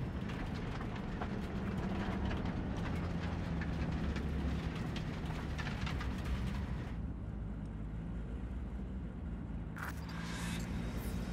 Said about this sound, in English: maybe we should just hijack the train